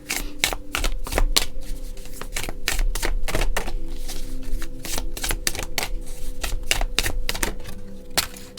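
Tarot cards are shuffled by hand close up, a steady run of crisp snapping slaps and riffles repeating quickly for several seconds with no voices.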